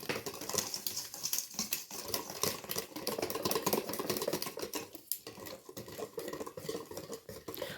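Semolina cake batter being mixed in a bowl after two sachets of yeast are added, a steady close scraping and clinking of utensil against the bowl with continuous stirring patter and no talk.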